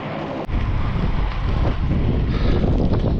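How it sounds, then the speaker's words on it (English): Strong, gusting wind buffeting the microphone during a rainy bike ride on a 300 km audax qualifier, a dense, loud roar that swells and eases without pause. "Sorry, it's still windy."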